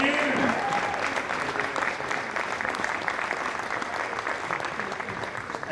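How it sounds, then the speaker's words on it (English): Audience at a national boccia tournament applauds after the finishing matches, a steady, even burst of clapping lasting throughout, with a brief voice near the start. "All right, round of applause, thank you."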